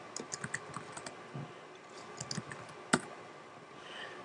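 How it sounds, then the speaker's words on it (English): Quiet, close clicking of keys being typed on a Mac keyboard, a quick irregular run of taps with one sharper click near the end, no voices. "so let's type in a password."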